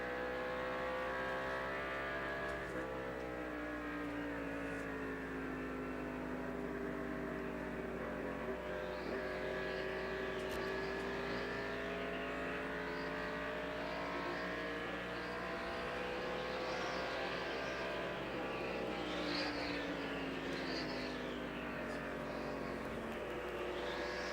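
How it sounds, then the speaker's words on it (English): Stock car engine from the 1988 Checker 500 heard from an in-car camera, a loud continuous roar that rises and falls with throttle and braking, shifting pitch through corners while running in traffic behind another car. "Interesting to hear the places that Dale gets off the accelerator and onto the brake"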